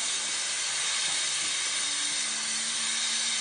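Gas hisses from a broken gas line in a steady, broadband rush. The sound stays loud and even for the whole stretch, with a faint low tone rising near the end and no voices.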